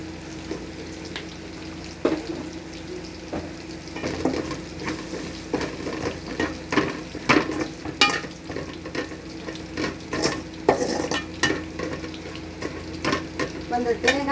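Chilli powder sautés in hot oil in a pan for chicken curry, a steady sizzle broken by repeated scraping stirs and light clinks of a spoon against metal, close and continuous throughout.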